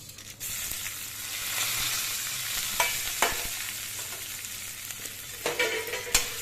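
Ginger and pepper fry with browned urad dal in a kadai, a loud close sizzle with bursts of stirring and sharp scraping strokes of a spoon against the pan.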